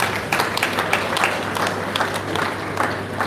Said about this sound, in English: can we applaud the keynote presenter?